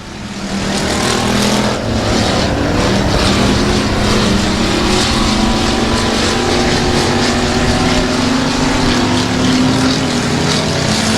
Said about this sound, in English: That Chuck Priestley power plant best engine underneath the hood coming to life now